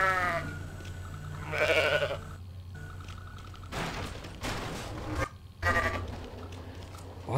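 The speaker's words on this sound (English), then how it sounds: "there's a very good chance that this goat can actually yell" Goat bleats from the Goat Simulator video game, several loud calls in bursts with brief dropouts and booming game noise between them, no talk over them.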